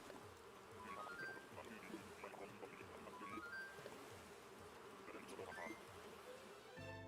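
Angry wasps buzz in Animal Crossing after a tree is shaken, a steady, fairly faint swarm drone that runs through the whole stretch.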